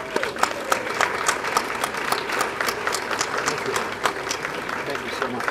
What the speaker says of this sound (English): Let's receive them with a hand clap.